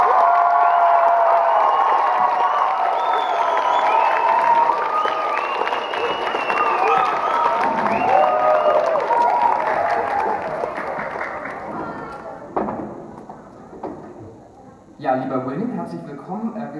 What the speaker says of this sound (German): Noch einmal donnernden Applaus für William Sutcliffe.